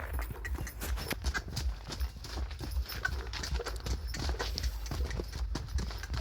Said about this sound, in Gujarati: ઘોડો